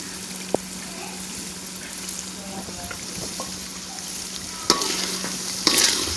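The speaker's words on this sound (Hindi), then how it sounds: "इसको अच्छी तरह से भूनेंगे।" Masala with tomatoes and green chillies sizzles steadily in a pan as a spoon stirs it, with scrapes and clinks near the end.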